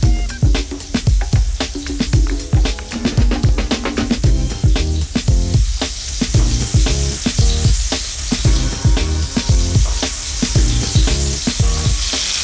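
Salt-seasoned meatballs browning in a pan give a steady, loud sizzle and spatter with frequent crackling pops, close up and continuous the whole time.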